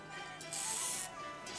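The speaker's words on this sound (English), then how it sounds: "Spray a little more." A spray bottle mists water onto a painting being mounted, giving a single soft, hissing burst of about half a second that sits quietly over a faint background.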